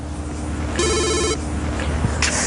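A phone ringtone chirps in one short, bright burst of rapid repeated beeps over a quiet room tone during a call that goes unanswered, with no talking.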